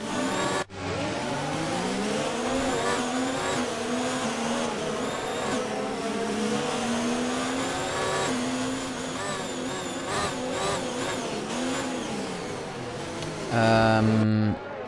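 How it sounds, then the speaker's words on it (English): Racing cars from an F1-style game at Bahrain pull away for the formation lap, a steady layered engine drone with rising and falling revs throughout and a louder surge near the end. "they'll be pulling away for their formation lap now"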